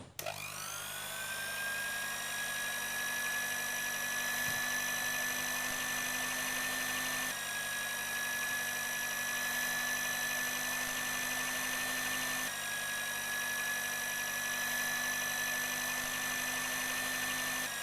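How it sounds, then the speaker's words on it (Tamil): An electric hand mixer beats powdered sugar into vanilla sponge cake batter. The motor gives a steady, high-pitched whine that holds continuously, with two brief hitches along the way. "சுகரை சேர்த்ததுக்கப்புறமா பேட்டரை நல்லா பீட் பண்ணி எடுத்துக்கணும்"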